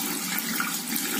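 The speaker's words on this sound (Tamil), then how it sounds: "பருப்பு கழுவும் போது இந்த மாதிரி நல்லா கசிந்து கழுவிடுங்க" Cowpeas being washed in water, a steady close splashing and sloshing of liquid for about a second with no speech.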